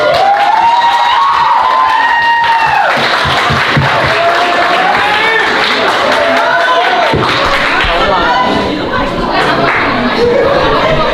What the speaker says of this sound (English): please give him a big round of applause as he takes the stage